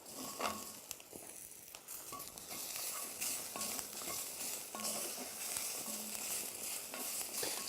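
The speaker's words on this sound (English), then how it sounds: "We're frying our onions and garlic and spices in the butternut squash" Onions, garlic, spices and butternut squash fry in a pan for a lamb biryani, a soft continuous sizzle broken by faint scraping stirs and light clinks, close and low in level.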